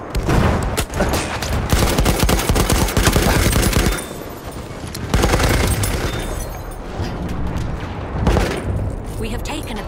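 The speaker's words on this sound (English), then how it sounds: "Feindliche SMG!" Enemy submachine gun fire in a World War I style shooter set at Amiens, sustained loud bursts of automatic shots with brief pauses and distant booms, mixed with shouted game voices.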